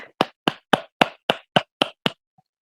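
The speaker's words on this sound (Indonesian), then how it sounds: "Beri aplaus" Nine crisp, evenly spaced hand claps ring out close to the mic, the applause that follows a class presentation in an online biology teaching session. The claps stop abruptly into silence.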